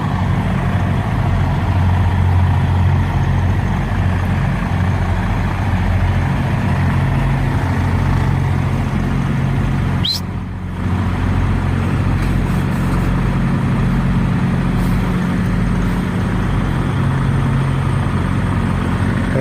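A semi truck with its trailer, backing up, produces a steady low diesel engine idle and rumble throughout, with a brief sharp transient partway through and no voices.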